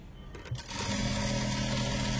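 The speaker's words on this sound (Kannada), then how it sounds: "ಈಗ ಆಮೂಲು ನ್ಯಾಚು ನೀಟಾಗಿ ಇಟ್ಕೊಂಡು ಸ್ಟಿಚ್ ಮಾಡ್ಕೊತಾ ಇದ್ದೀನಿ." An electric sewing machine stitching a frock, a brief quiet handling sound then a steady fast whirring hum from the motor that runs without pause to the end, close and alone.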